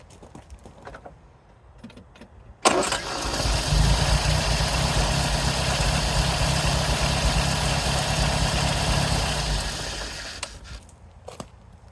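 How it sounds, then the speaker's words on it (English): An MG TC car engine cranks and fires with a sudden loud start after a distributor cap failure is fixed, then settles into a steady, rumbling idle for several seconds before cutting off. "With that, the car should fire right up."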